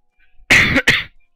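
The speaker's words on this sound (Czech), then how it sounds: "Nevím, z čeho kašlu, protože kašílek dneska nemám." A single short cough, then a second quick cough close to the microphone, sharp and fairly loud against an otherwise quiet background.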